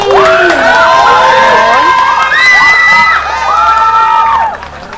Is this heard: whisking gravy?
no